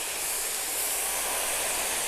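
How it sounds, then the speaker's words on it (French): Lemon juice hits a very hot pan of apples and celery, giving a loud, steady steamy sizzle and hiss that carries on unbroken, with no voices. "je vais y amener mon jus de citron pour déglacer mes pommes et mon céleri"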